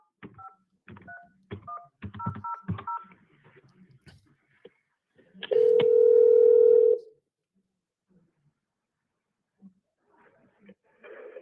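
A recorded phone call opens with a quick series of short touch-tone dialing beeps, then a long steady tone of about a second and a half, followed by faint clicks and near silence.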